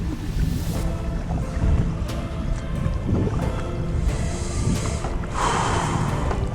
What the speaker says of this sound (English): Bit of wind this morning.